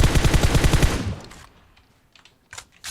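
Rapid automatic gunfire in the video game PUBG Mobile, loud and dense for about a second, then fading to sparse, fainter single shots in the background.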